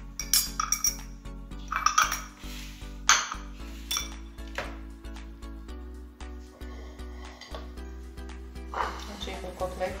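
A dish or bowl of cutlet marinade is stirred by hand, giving repeated clinks and knocks of metal and crockery in an irregular rhythm, close and fairly clear, with faint talk in places.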